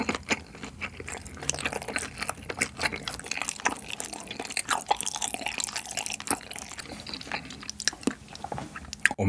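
Close, wet chewing and biting of chewy fried pork (guobaorou) with irregular sticky smacks and crunches, continuing without talk.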